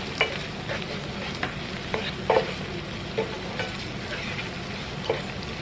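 A spoon stirs chopped parsley through creamy Dijon mustard chicken in a pan, with a steady sizzle underneath and several distinct scrapes and clacks of the utensil against the pan, close up, with no talking.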